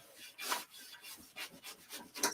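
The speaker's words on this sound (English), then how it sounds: "I am going to wipe it down" A cloth wiping across a wooden board in several quick, soft rubbing strokes, close and quiet, with no talking.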